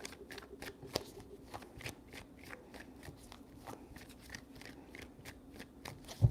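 Tarot cards are shuffled by hand in a series of crisp, rapid riffling snaps and soft slides, close and fairly quiet, with no talk over them.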